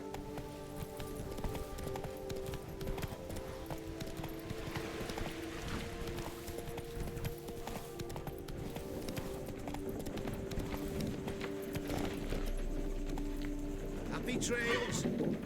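Roach the horse clip-clops along at a steady walking rhythm in Witcher 3: Blood & Wine, hoofbeats continuous and fairly close, with game music and a voice talking over the top.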